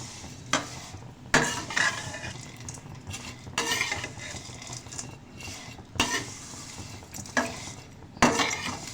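Vermicelli is roasted in a pan over a low flame for sweet seviyan, a spoon scraping and stirring in repeated strokes against the metal while a soft sizzle runs underneath, close and clear with no talking.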